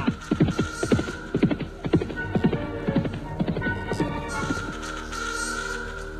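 Horse hooves clip-clop in a steady, close rhythm, loud and distinct, with a faint neigh and a low hum underneath, then the footfalls fade into a softer murmur.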